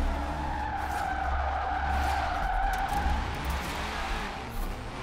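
Tires screech in a long, sustained skid as a car drifts in Forza Horizon 4, played on a Logitech G920 wheel, over a low engine drone; loud and continuous with no talk.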